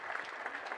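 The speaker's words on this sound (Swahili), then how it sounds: "makofi" At a memorial celebration of life, a crowd gives a brief wash of applause, dense and steady for under a second.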